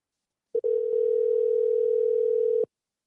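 A single steady telephone call tone, clean and continuous for about two seconds after a brief initial blip, then cut off, with silence around it.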